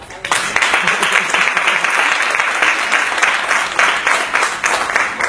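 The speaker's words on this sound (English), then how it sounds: "Let's give ourselves a round of applause." An audience at a literacy-themed speech claps for itself in a loud, close burst of applause that holds steady throughout, with some voices mixed under the clapping.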